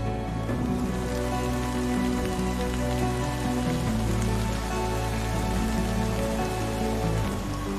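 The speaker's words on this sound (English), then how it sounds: "Here comes the rain." Steady rain pours down outdoors, a dense continuous patter on surfaces that holds evenly loud throughout with no voices.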